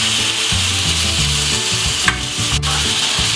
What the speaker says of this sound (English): Even just the sound of that sizzle makes me hungry.